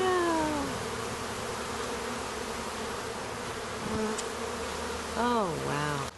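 A honeybee swarm arriving at a beehive fills the air with a steady, dense buzzing, close and continuous, with a few brief tonal cries and whistling sounds rising over it near the end.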